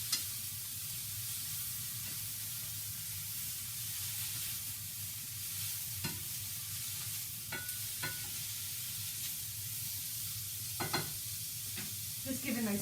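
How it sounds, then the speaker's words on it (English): Rainbow noodle stir fry sizzling steadily in a pan while being stirred, a continuous close frying hiss broken by occasional utensil clicks and scrapes, more of them toward the end. "Just giving my stir fry another little stir"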